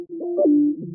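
A warm, sustained vintage guitar texture with gliding, wavering pitches, slightly muffled and lo-fi, recorded on an Edison machine and playing alone without any voices.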